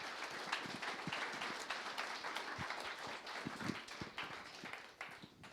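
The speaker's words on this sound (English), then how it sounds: "please give one last round of applause to Doug" Audience applause after a talk at a JavaScript and React developer meetup: a dense, steady clapping crowd, moderately near, sustained for several seconds with no speech.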